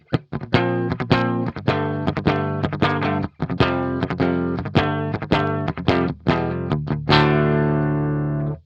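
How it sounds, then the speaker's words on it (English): Dry electric guitar strums out a run of sharp, rhythmic chord hits, ending on one chord left to ring out. "we'll try out Amped GNR. Let's hear how that one sounds dry first"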